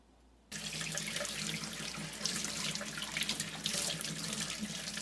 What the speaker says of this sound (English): Rinse the strainer under running water.